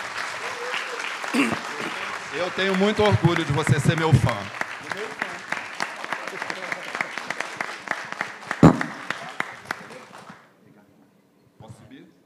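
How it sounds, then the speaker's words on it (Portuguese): Audience applause at a Portuguese-language literary event, sustained clapping running under a speaker's voice for about ten seconds before fading to near silence. "eu peço a salva de palmas para o..."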